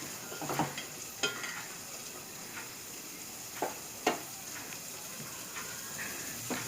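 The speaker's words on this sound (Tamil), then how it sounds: "அது கண்ணாடி பதத்துக்கு வர வரைக்கும் நல்லா வதக்குங்க" Onions sauté in a pan for a potato curry, a soft, continuous sizzle broken by occasional sharp clicks and taps of a stirring spoon against the pan, fairly quiet and without voices.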